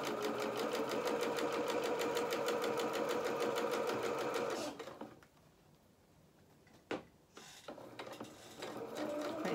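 A sewing machine stitches a kilt waistband in a fast, even rattling run of needle strokes, stops for a few seconds of near quiet with a sharp click, then starts stitching again.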